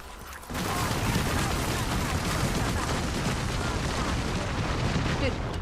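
Video game artillery strike and gunfire, a sudden dense wall of booming fire that sustains loudly for several seconds after a brief quiet start.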